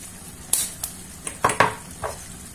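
A spoon stirs a chicken kefta tajine sauce seasoned with turmeric and ground coriander in a frying pan, giving a few close scraping strokes over a steady low sizzle.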